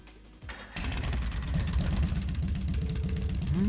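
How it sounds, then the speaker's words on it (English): In Trails of Cold Steel, a motorbike engine cranks briefly and then catches, settling into a steady, throbbing idle that stays close and loud to the end. "Alright, I'm going to start up the engine now."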